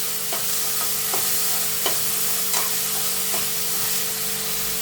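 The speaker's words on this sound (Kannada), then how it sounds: "ಆನಿಯನ್ನು ಮತ್ತು ಆ ಮೂಲಂಗಿ ಸೊಪ್ಪಿನ ದಿಂಡು ಫ್ರೈ ಆಗಿದೆ ನೋಡಿ" Onion and radish greens stems fry in a pan with a steady, close hiss, broken by a handful of faint spatula taps and scrapes, no voices.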